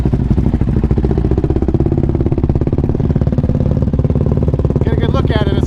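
An off-road vehicle riding through an empty OHV park, its engine pulsing loud and close with steady rattling, and talk over the end.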